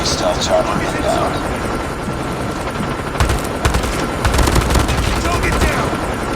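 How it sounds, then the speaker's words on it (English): Inside the COD Mobile shooter game, a friendly stealth chopper arrives with a continuous rotor drone while bursts of automatic gunfire crackle over it, loud and busy throughout. "Friendly stealth chopper inbound."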